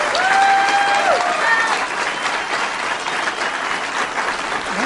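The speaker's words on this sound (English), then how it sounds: "Go ahead, Republicans, start cheering." A political crowd of Republicans applauds and cheers after a speech, dense sustained clapping with a few whoops rising early and then settling into steady applause.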